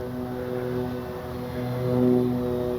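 An FMS PC-21 Pilatus RC model airplane flies its landing approach, a steady propeller drone with harmonic engine tones that swells slightly as it passes closer, no talk.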